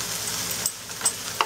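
Yellow squash and onions sauté in a pan, a steady close sizzle broken by a few brief scrapes of stirring, with no talking.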